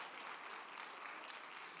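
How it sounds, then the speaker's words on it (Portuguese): A church congregation breaks into a dense, steady round of applause, many hands clapping together at close range with an even, sustained roar and no voices standing out. "uma salva de palmas mais alto"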